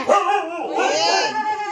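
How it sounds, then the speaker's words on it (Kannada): A dog at a house during the Marathahalli jatre festival gives a short run of sharp, whining yelps and barks, close and loud, lasting under two seconds. "ಇಲ್ಲೊಂದು ನಾಯಿ ಐತೆ"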